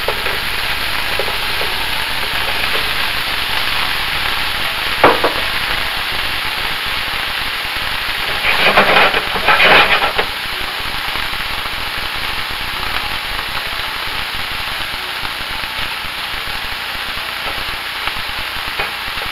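Bologna, salami and ham browning in an oiled pan, a steady loud sizzle and crackle throughout, with a few brief stirring or flipping scrapes partway through and no talk.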